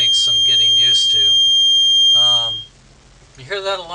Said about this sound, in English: That's the bilge alarm for the starboard hull.